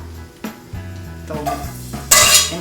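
Garlic tossed into a hot pan while cooking pasta with mushrooms, giving a few metallic clinks and a stirring scrape, then a bright rising sizzle near the end, close and fairly loud.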